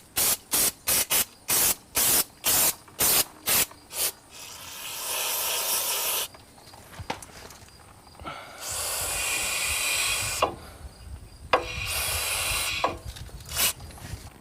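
Brake cleaner sprayed on 2001 Ford F150 front brake components: a rapid series of short sharp spray bursts, then longer hissing blasts with pauses between them, loud and close.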